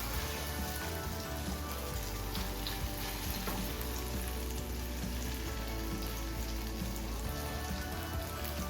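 An egg and vegetable mixture frying in oil in a frying pan gives a steady, even sizzle and crackle that continues throughout, close up and fairly quiet, with no talking.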